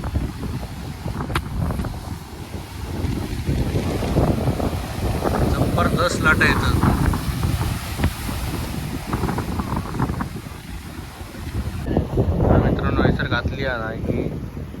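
Sea waves rolling in at Aravali beach in Shiroda, a broad surging wash of surf with heavy wind buffeting the microphone, loud and close, with faint voices in the background.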